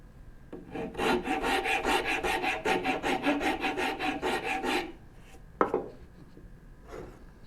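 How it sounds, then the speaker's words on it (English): A hand rasp files wood in steady back-and-forth strokes, about a dozen rhythmic scrapes close up, followed by a pause and a couple of isolated strokes. "I am taking the absolutely slow method of rasping"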